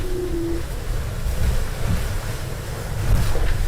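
Strong wind and sea noise aboard a racing sailboat in the Vendée Globe round-the-world race, a continuous loud roar of gusts buffeting the microphone over churning waves and hull noise, with no voices.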